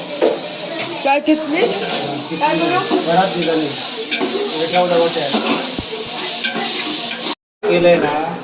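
Onion frying in a pan for village-style Kokani chicken, a loud steady sizzle with stirring scrapes, while people talk over it throughout and a brief dropout comes near the end.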